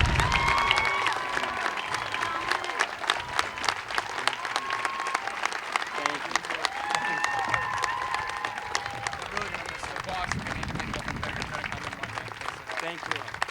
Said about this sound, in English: Ladies and gentlemen, the class of 2013, please join me in applauding Mr. John Leary